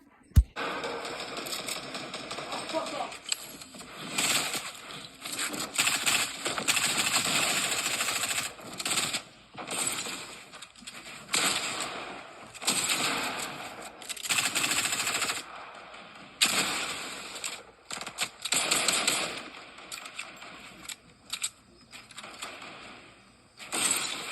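Rapid bursts of automatic gunfire and shots from Fortnite gameplay rattle almost continuously, with dense clattering volleys and brief pauses between them.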